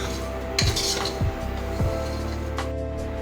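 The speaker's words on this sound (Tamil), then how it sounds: "ஸோ இதை நல்லா இப்போ நம்ம சாட்டே பண்ண போகிறோம்" Roasted vermicelli is sautéed in ghee in a pan, with a spoon scraping and knocking against the metal in a few distinct strokes over a low steady background hum.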